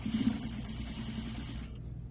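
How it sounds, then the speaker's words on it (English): Sewing machine running a number 2 stay stitch along a collar facing, a quiet steady motor hum with rapid needle chatter that stops near the end. "Stay stitching will keep the facing inside the garment"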